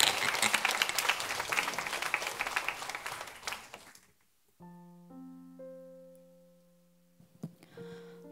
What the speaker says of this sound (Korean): 박수로 뜨겁게 격려해 주시면 좋겠습니다